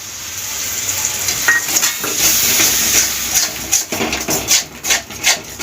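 Tomato paste frying with mushrooms in a pan over medium flame, a continuous loud sizzle with scraping stirs that grow into uneven bursts toward the end.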